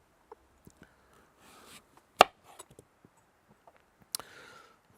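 A knife slicing tromboncino squash into 6mm slices on a cutting board, giving a few sparse, quiet taps and one sharp, loud chop near the middle of the clip, with another firm cut toward the end.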